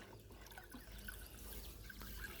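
Water trickles and pours into a water pot in a faint, steady stream with small splashes, heard at low level against a soft background.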